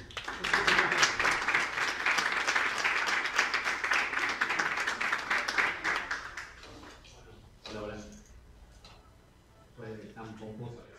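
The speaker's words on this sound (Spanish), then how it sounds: "presentamos y recibimos con un aplauso al ministro de Cultura y Turismo de la provincia de Jujuy, Federico Posadas." An audience applauds to welcome the minister of Culture and Tourism of Jujuy province, with dense, loud clapping that fades after about six seconds into scattered claps, movement and murmuring voices.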